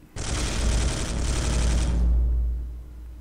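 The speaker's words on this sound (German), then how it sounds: "Genau, zweimal schießen." Gunfire in the Space Hulk video game remake, a loud sustained burst of rapid shots that cuts in abruptly, runs for nearly two seconds, then gives way to a deep rumbling boom that fades out.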